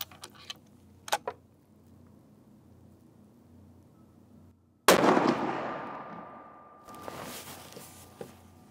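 A Sako S20 Hunter rifle fires a copper hunting bullet: one loud, sharp crack near the middle, decaying into a long rolling echo, with faint ticks and small clicks before and after.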